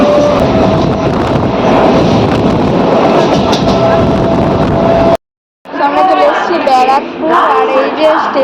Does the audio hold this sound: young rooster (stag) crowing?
no